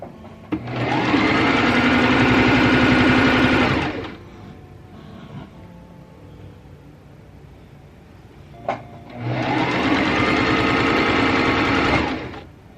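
A sewing machine runs close and loud, stitching fabric for a scrunchie in two steady bursts of about three to four seconds each, separated by a quiet pause with a single click.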